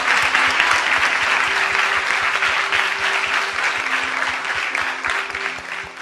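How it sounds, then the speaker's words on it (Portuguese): Church congregation applauding during an evening service, a steady, dense wash of clapping from many hands lasting throughout, with faint sustained tones humming underneath. "Uma salva de palmas."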